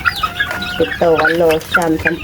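Young rooster stags clucking in a flock of young chickens, giving close, repeated clucks and short calls while a man counts aloud over them.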